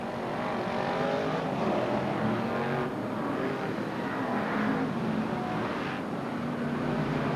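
Brisca F1 stock cars racing in a thinned field during the 1993 European Championship, a loud continuous roar of several engines that swells and fades as cars pass.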